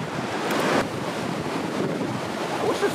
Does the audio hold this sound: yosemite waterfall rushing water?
yes